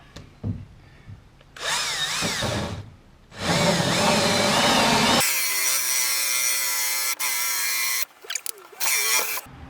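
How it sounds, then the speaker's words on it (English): A power drill drives a hole saw through plastic to cut a keyhole, loud grinding bursts starting and stopping, then a long continuous whining cut before it cuts out with short final spurts. "And now the main hole is drilled out"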